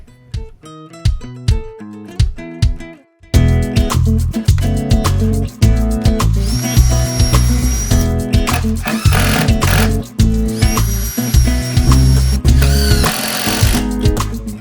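A power drill drives screws into a wooden planter box, starting with several short, choppy bursts and then running in loud, close, sustained whirs with a rising whine, broken by brief pauses.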